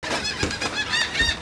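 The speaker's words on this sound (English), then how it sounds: "Watching the birds." Birds, likely geese, honking in a brief burst of loud, nasal calls close by.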